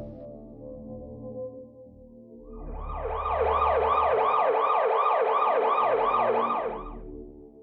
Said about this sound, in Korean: 구급차가 연습실이 있는 건물 바로 앞에 서는 겁니다